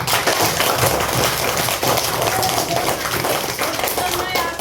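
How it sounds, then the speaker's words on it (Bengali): Loud, sustained applause at a primary school seasonal fruit festival, many hands clapping together in a dense continuous roar for the fifth-grade pupils, with voices mixed in. "পঞ্চম শ্রেণীর শিক্ষার্থীর জন্য সবাই আমরা একটা জোরে হাততালি দিব"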